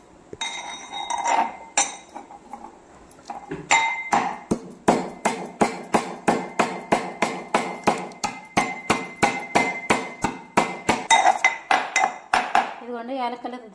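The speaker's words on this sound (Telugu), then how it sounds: "2 ఏలక్కలు అయితే దంచుకుందాము" Two cardamom pods are pounded in a metal mortar. A quick run of loud, ringing, metallic strikes settles into a steady rhythmic beat, with faint talk at the start and a scraping rattle at the end.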